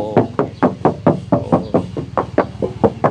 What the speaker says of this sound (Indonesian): Kita ketok ya.